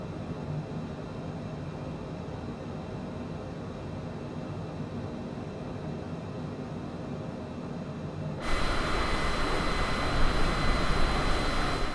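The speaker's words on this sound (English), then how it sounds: "You can definitely hear the wind." Steady broadband wind rush during flight in Microsoft Flight Simulator through Hurricane Ida, a constant airy roar that jumps louder and brighter partway through and holds there, with no talking.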